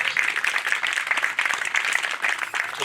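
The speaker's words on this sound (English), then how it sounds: "give her a round of applause" Steady crowd applause at an outdoor mural unveiling and peace tree blessing, dense continuous clapping from many hands throughout.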